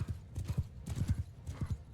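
Rapid clip-clop of horse hooves from mounted horse archers galloping in a Mount and Blade 2 Bannerlord battle, a dense rolling rhythm of hoofbeats at moderate volume with faint battle noise.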